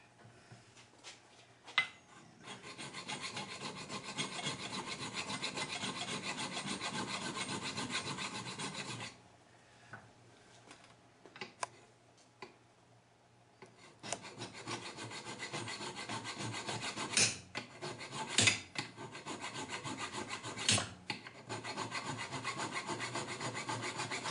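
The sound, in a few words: filing the rounded edges of a socket with a file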